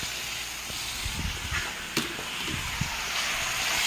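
Rinsed beans are stirred into peppers and potatoes frying in a pan, with a constant close sizzle under a few soft scraping and clattering stirs.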